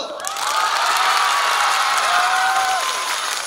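A school festival audience applauding and cheering for a teacher during a recreation vote. Dense, loud clapping with shouts and whoops fills the whole stretch.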